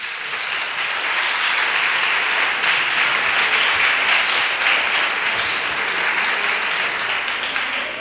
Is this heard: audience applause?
yes